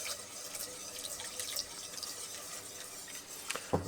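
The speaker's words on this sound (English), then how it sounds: "So I'm going to pour in a bit more milk." Milk is poured into a pan of lumpy, thickening white sauce, giving a faint, steady liquid trickle with small drips and a brief clink near the end, with no talking.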